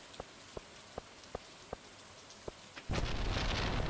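Stardew Valley rainstorm: a series of sharp, evenly spaced raindrop taps gives way to a sudden loud crack and rumble of thunder, followed by heavy steady rain with no talking.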